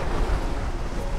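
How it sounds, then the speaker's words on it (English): Ocean surf at Kahana Bay, Hawaii, heard from a small walkway pier: a loud, continuous wash of breaking waves mixed with gusty wind buffeting the microphone, with no voices. "Look at this ocean."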